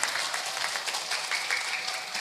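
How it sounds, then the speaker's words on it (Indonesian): Steady clapping from an audience at a Surabaya religious gathering, a fairly faint dense patter without a break. "Tepuk tangan."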